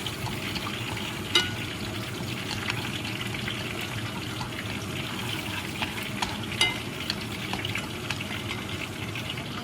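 Shallots frying in oil for a beef vermicelli stir fry, a steady close sizzle and crackle with a few sharper pops, no talking.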